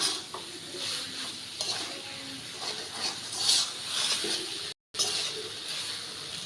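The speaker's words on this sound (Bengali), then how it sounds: "ভালো করে কষিয়ে নিচ্ছি" Potatoes with spices are sautéed in a pan, a soft sizzle with repeated scraping and stirring of a spatula against the metal, close and steady, with a brief dropout partway through.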